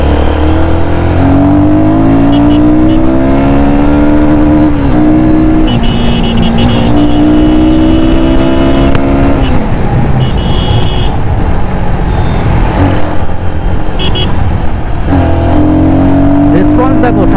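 A motorcycle with a ride-by-wire throttle revs and pulls hard in third gear, its engine note climbing in repeated rising sweeps, loud and close, with a voice speaking over it at points.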